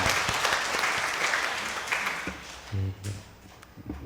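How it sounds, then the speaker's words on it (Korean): A church congregation applauds during a Korean Sunday morning worship service, a full wash of clapping that fades out after about two seconds, giving way to a quieter stretch with a low voice. "하나님께 영광의 박수 올려드리도록 하겠습니다"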